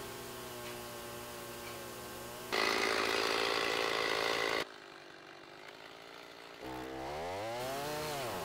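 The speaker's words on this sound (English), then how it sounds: "I'm going to just take my chainsaw and finish that cut" A chainsaw roars through a wood burl while milling it, its engine pitch rising and falling as it bites into the cut, idles, then revs up again.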